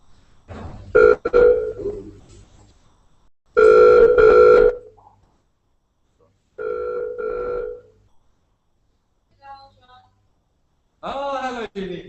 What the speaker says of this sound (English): And we're calling.